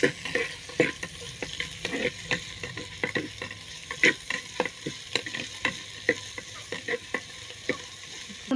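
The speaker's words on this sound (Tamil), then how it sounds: "அதோட நாலு காஞ்ச மிளகாய் அரைஞ்சிருக்கு அதுவும் எடுத்து போட்டுக்கலாம் நல்லா வதங்கணும்" Four dried chillies with onion sautéing in a pan for country chicken rasam, a steady close sizzle broken by frequent sharp scraping stir strokes of a spoon against the pan.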